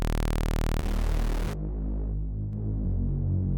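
A heavy synth bass enters a drum and bass intro, a dense buzzing low throb giving way to deeper wobbling bass notes that shift in pitch, loud and upfront with no voices.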